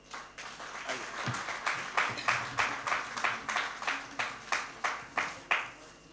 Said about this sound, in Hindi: लेकिन एक बार तालियां बजाइए